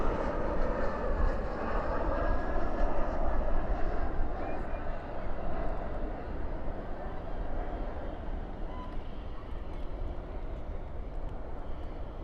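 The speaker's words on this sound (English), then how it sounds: "Spoilers up, reversers out on this E175. This one operated by Envoy." Envoy Embraer E175 landing at night at Dallas Fort Worth with spoilers up and thrust reversers deployed, a low, distant, sustained engine rumble that is strongest early and eases slightly while staying steady throughout.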